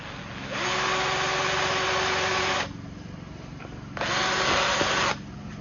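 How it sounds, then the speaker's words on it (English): A power drill drills a pilot hole for a hood strut on a Ford Shelby GT350, whirring steadily for about two seconds, stopping briefly, then running again in a second shorter burst, close and loud. "I'm gonna make a little pilot hole for it."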